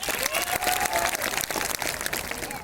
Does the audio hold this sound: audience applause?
yes